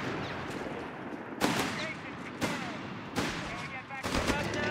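Battle gunfire in the strategy game Company of Heroes 3, with sharp tank cannon penetration shots against a Jeep cracking out every second or so over continuous rattling combat noise, with a commentator talking over it.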